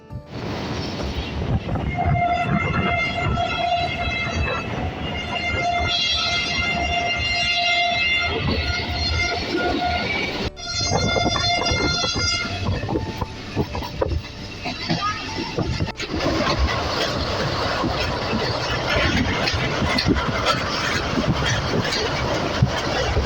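Inside an economy class coach of the Sir Syed Express passenger train, a steady loud rumble and rattle of wheels on track with sustained tonal whining or horn-like tones in the first half, continuing without a break.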